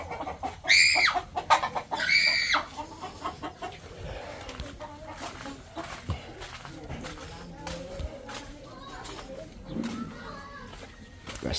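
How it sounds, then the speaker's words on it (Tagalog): Chickens clucking and squawking inside a poultry house, a couple of loud cackling calls up front, then softer scattered clucks and rustling with a voice talking quietly in the background. "Ayan yung mga manok. Nakulong sa loob."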